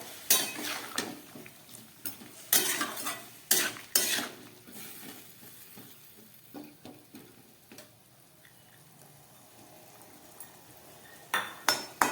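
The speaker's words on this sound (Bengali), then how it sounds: "এবার দিয়ে দিচ্ছি ভিজিয়ে রাখা ছোলাটা" Soaked chickpeas go into a pan of papaya and potato curry and get stirred: repeated close scraping, clattering bursts of a spoon against the pot, with quieter pauses between strokes and a final flurry of stirring.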